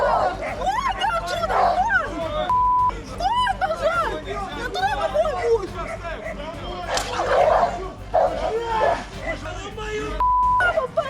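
Dogs bark and yip repeatedly during a tense street confrontation, their sharp calls rising and falling over loud crowd chatter and overlapping voices throughout.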